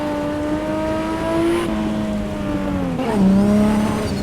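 A race car engine in Assetto Corsa Evo holds a steady drone, dipping and then climbing in pitch as it shifts through the revs, close and fairly loud, with no one talking.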